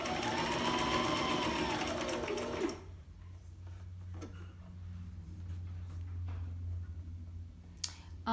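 A sewing machine stitches a seam on a homemade fabric face mask, its motor whirring rapidly and loudly for under three seconds before stopping, followed by quieter handling clicks and a low background hum.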